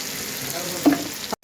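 Tomatoes and coriander cook in oil in a pan for tomato coriander pachadi, giving a soft frying sizzle with a brief stir near the end before it cuts off.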